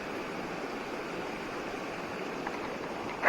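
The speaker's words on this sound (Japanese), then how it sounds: "増水してっていう感じの川っすね、ここ。" A swollen mountain stream at a sabo erosion-control dam rushes steadily, its broad, continuous water noise filling the scene with no pauses and no talk.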